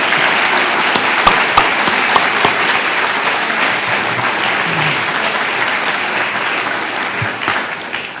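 An audience claps steadily in a sustained round of applause at an economic development council annual meeting, the clapping dense and even, tapering slightly at the end.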